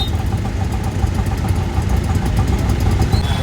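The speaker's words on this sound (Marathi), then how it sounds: "खूप ट्रॅफिक लागले यार" Idling engines in heavy road traffic hum low and steady throughout, a dense rumble close by with no voices.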